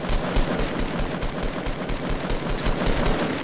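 Rapid automatic gunfire in the Fortnite Battle Royale video game: dense, loud bursts of shots fire in quick succession through the whole few seconds, with no speech over them.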